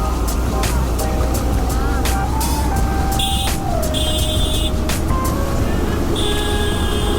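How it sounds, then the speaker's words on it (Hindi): Heavy highway traffic on the Gwalior–Agra route, with fully loaded trucks and container carriers, makes a loud continuous roar of engines and tyres, broken by repeated horn blasts, all heard close from a passing vehicle. "ये ग्वालियर आगरा रूट पे ये दिक्कत है, बहुत ज़्यादा ट्रैफिक है यहाँ पे"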